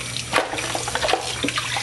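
Tap water runs steadily into a sink while chicken is washed, a close, continuous splashing gush with small irregular splatters and no voices.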